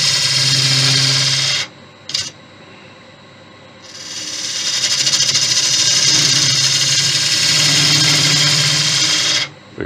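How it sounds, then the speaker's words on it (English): A wood lathe turns a Thai redwood vase while a ball gouge cuts, giving a loud continuous rasping shear that stops twice for a moment, then resumes, over a low motor hum. "Bigger ball gouge, the blade and it was too big and it was catching."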